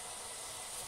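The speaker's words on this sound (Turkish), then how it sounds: "Soğanı koyalım." Chopped onion dropped into a hot pan of olive oil, sizzling steadily with a broad, even hiss that stays loud and close without a break.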